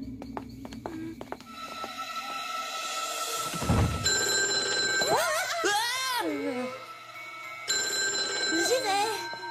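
A telephone rings in a French animated cartoon scene, a bright repeated electronic ringing in bursts over background music and effects, with sweeping sound effects and voices in between.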